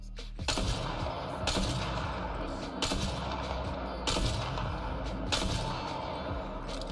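Heavy gunshots in the shooter game Apex Legends, about five loud booming shots spaced roughly a second or more apart over a steady rumbling background.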